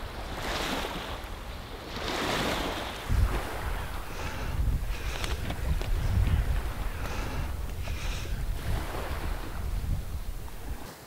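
Cold Baltic Sea waves wash onto a beach while coastal wind blows steadily and buffets the microphone, forming a continuous, full roar with swelling surges.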